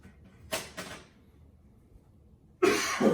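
A pair of short, sharp coughs rings out in quick succession from a single person in a lecture setting, followed by a quiet pause and then a louder burst of noise.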